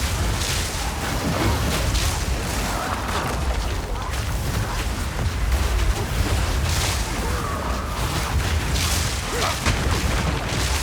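A berserker enemy's fire attack in the Path of Exile 2 jungle temples fills the clip with a continuous loud roaring rumble of flames and blasts, dense and unbroken for about ten seconds, with faint voices in the mix.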